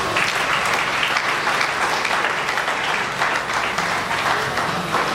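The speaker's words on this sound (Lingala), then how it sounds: "Vous pouvez applaudir pour vous-même." An audience at a charity meal event breaks into sustained, loud applause, a dense wash of clapping that holds steady from start to finish without talk.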